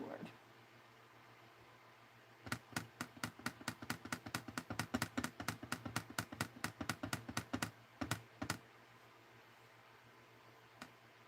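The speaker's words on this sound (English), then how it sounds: "Keyboard." Rapid clicking keystrokes on a computer keyboard in a steady burst of about six seconds, close and distinct, with quiet talk before and a faint fan hum underneath.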